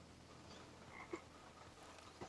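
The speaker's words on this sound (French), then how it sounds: "C'est une grenouille qu'on a entendue." A frog in the video game Life is Strange 2 gives two short, faint croaks against a quiet ambient background of outdoor game atmosphere.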